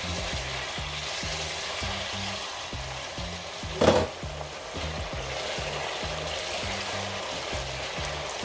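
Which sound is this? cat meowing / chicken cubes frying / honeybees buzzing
chicken cubes frying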